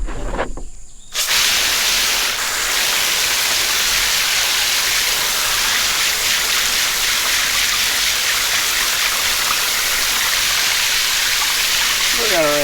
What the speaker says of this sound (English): We're gonna rinse it outside with some cold water